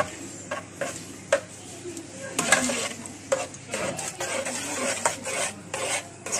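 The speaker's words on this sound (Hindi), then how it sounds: "अब मैंने जो खली की क्रीम ली थी उसको मैं अच्छी तरह से फेंट लिया और मैं इसको मिक्स कर देती हूँ" A spoon stirring chilled, whipped cream into pineapple kheer in a pot, giving soft scraping and intermittent metallic clinks at close range, with a quiet kitchen background.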